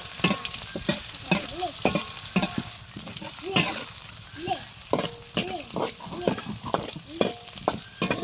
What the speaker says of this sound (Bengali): ভেন্ডি ভাজি।